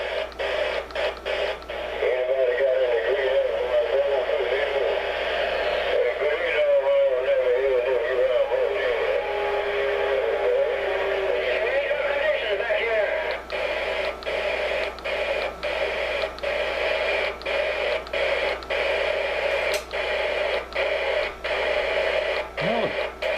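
Uniden PRO505XL CB radio receiving skip transmissions, a steady hiss of static with distorted, warbling distant voices and bursts of noise coming through, continuous and fairly loud.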